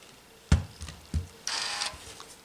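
A steam iron presses the seams of a nine-patch quilt block: two soft thuds as the iron sets down, then a short, steady burst of steam hissing up close.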